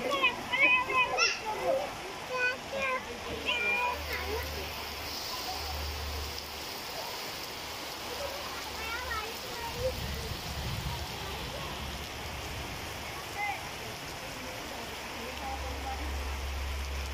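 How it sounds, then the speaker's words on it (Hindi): Steady heavy rain hisses on surfaces in a village while children shout and talk excitedly nearby, voices rising and falling over the downpour. "बहुत जबरदस्त बारिश हो रही है"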